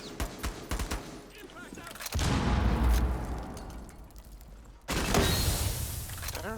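Gunfire rings out in a Rainbow Six video game match, with sharp bursts of shots early on, then two dense, loud sustained volleys that roll on for seconds, all close up.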